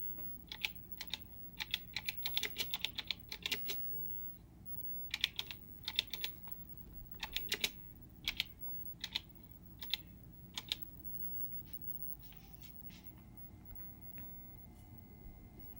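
Bursts of typing on the keyboard of a vintage Tandy CoCo home computer, quick clusters of key clacks separated by short pauses, fairly close and clear over a quiet room hum.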